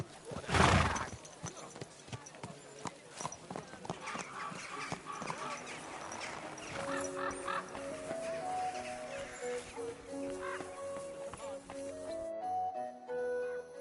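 Horse hooves clopping and a horse neighing in the medieval role-playing game Kingdom Come: Deliverance, with a loud burst near the start, then steady clatter under game music and dialogue voices.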